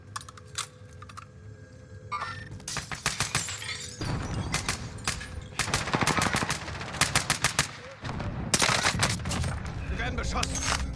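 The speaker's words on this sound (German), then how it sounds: "Wir werden beschossen." Gunfire in the video game Call of Duty Warzone, bursts of rapid automatic shots at varying distances, some sharp and close, broken by short gaps, with keyboard clatter and occasional voices underneath.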